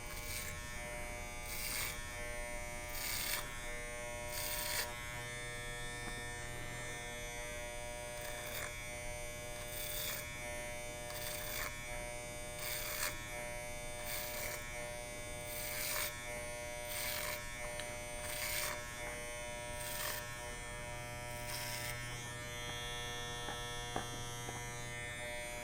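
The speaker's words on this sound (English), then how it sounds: "I'm going to take my clipper over comb" An electric hair clipper cuts hair over a comb at a barbershop, humming and buzzing steadily and close for a long stretch, with regular brief rises as it passes through the hair and no talk.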